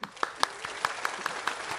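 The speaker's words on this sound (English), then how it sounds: "A round of applause for Katie Dirks." A small live-show audience gives a short round of applause, sparse individual claps spaced out and fairly faint, with a murmur of voices beneath.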